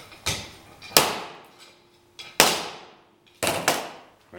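Heavy hammer striking a lead-loaded piece, five or six sharp, loud metallic whacks with short ringing decays, spaced irregularly and heard alone without talk.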